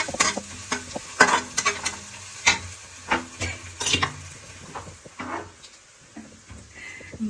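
Onions fry in a pan while being stirred, with scraping spoon strokes and clatters over a bubbling sizzle in irregular bursts, close and fairly loud.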